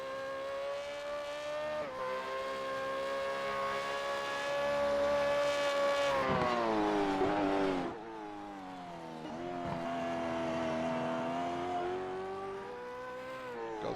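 A V8 Supercars race car runs on the Detroit street circuit in the 2025 season. The engine note is loud and sustained, rising and falling through gear changes, with a sharp dip and recovery midway through.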